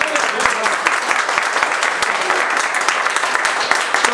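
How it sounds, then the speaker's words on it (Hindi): Loud, brisk applause from a group of people clapping together for someone in a classroom or training session, dense overlapping claps with distinct sharp hits throughout. "एक बार इनके लिए जोरदार ताली बजाओ।"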